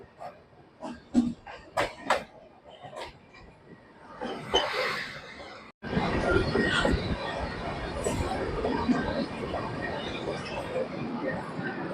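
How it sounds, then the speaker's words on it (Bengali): Saktipunj Express pulling into Barakar station: scattered clanks and knocks give way to a sudden, sustained loud rumble and hiss of the train close by, with voices in the background. "ট্রেন এখন বরাকরে এসে দাঁড়ালো"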